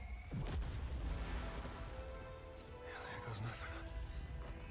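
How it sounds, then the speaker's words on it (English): Bombs exploding in Fortnite during a boss fight, a dense run of booming blasts and crashes layered over busy game noise, with people talking excitedly throughout. "She's throwing bombs!"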